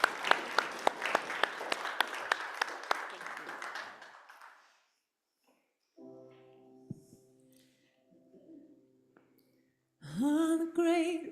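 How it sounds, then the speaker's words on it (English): A church congregation at a worship service claps in a burst of applause that fades out after about four seconds, followed by quiet, a low hum and a brief bit of music near the end. "How about a nice round of applause?"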